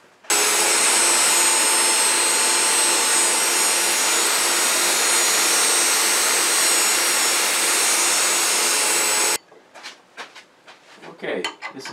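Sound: sanding a wooden wig stand on a lathe

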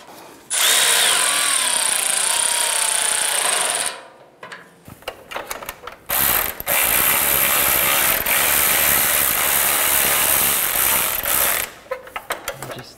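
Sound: ratchet tightening license plate screws on Dodge Ram bumper

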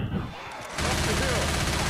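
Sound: gunfire in the video game Left 4 Dead 2

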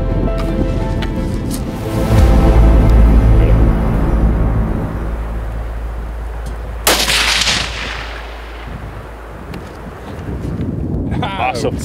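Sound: rifle shot while hunting mouflon

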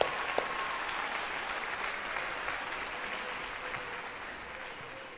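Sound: audience applause for the clarinet section

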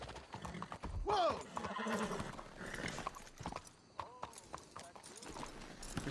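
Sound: horse hooves and neighing in Red Dead Redemption 2 video game

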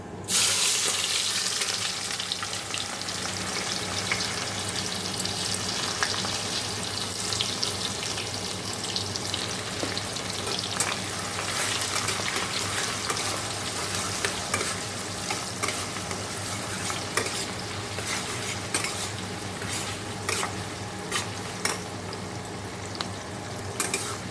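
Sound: frying onion with whole garam masala and dried chili

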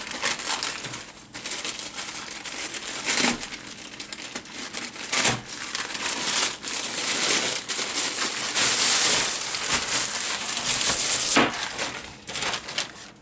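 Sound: opening an AliExpress parcel, plastic packaging crinkling

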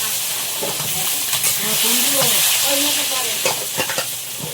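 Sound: eggplant slices frying in oil

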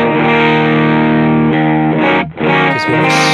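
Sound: guitar through NRG Purrer overdrive with scooped mids

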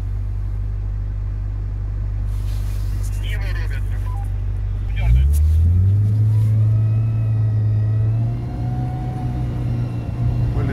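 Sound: Suzuki Samurai off-road vehicle doing a police U-turn

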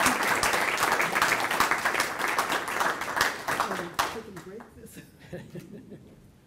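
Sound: audience applause

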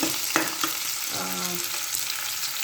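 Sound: onions and garlic frying in oil for tempering

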